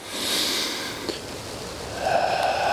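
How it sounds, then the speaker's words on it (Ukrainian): Slow, deep breaths drawn in and pushed out during a breathing exercise, heard as close, airy hissing that swells and fades, with a louder exhale near the end. "розкрили груди, вдих, видих"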